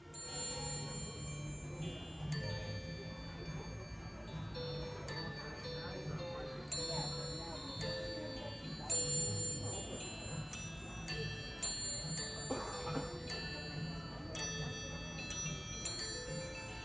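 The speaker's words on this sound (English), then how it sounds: "It's called Santa's Marching Band, and they have little Santas playing bells with the song." A Christmas tree decoration of tiny Santas in a marching band plays a bell melody of O Come All Ye Faithful, with bright repeated chimes in a steady tune over a busy shop's background murmur.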